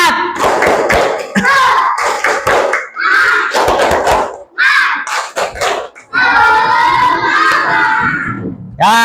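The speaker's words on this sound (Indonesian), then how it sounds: "Tepuk semangat." A third-grade class of students clapping in rhythmic patterns while chanting loudly in unison, sharp bursts of claps alternating with shouted voices, close and energetic, with short pauses between phrases.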